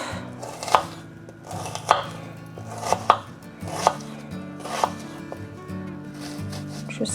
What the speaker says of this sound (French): Je cisèle.